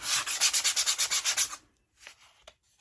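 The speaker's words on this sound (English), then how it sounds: "sand all the bits down, like sharp bits" Hand sanding of a Dollar Tree vintage seed store sign to smooth its sharp bits: about ten quick, even rubbing strokes, close and loud, then stopping, with a few faint handling sounds afterward.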